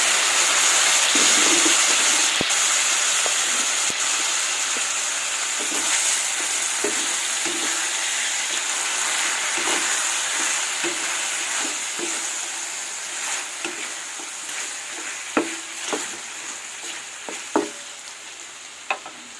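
Chicken hits a hot pan with lemongrass for a chicken curry with coconut milk and pineapple, a loud steady sizzle with stirring clicks and scrapes that grow more frequent as the hiss slowly fades.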